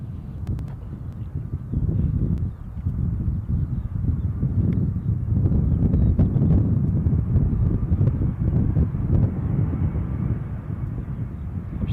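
A Lufthansa airliner from Frankfurt on approach to Edinburgh Airport, heard as a steady, distant low jet rumble mixed with gusty wind noise on the microphone, with no voices.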